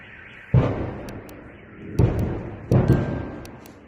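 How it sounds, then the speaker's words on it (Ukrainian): Three deep explosion booms in Belgorod roll out a second or so apart, each a heavy distant thud with a lingering rumble over steady background noise. "місцеві телеграм-канали публікують відео із звуками вибухів"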